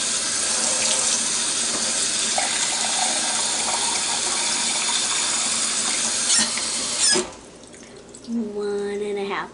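Lukewarm tap water runs in a steady hissing stream into a measuring cup for bread dough, then cuts off, followed by a few clinks and a brief trickle nearby.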